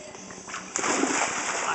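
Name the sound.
big splash of someone jumping into a pool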